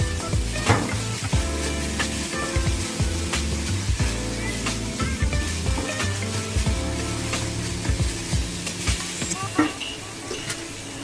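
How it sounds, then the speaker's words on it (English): Vegetables sautéing in a pan for a low-oil pav bhaji, a crackling sizzle with frequent clinks and scrapes of a utensil against the pan, while a voice talks over much of it. "Now we will slightly saute the vegetables."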